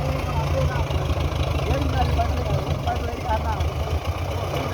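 A tractor engine idles with a steady low rumble, loud and close, continuing unbroken beneath a voice.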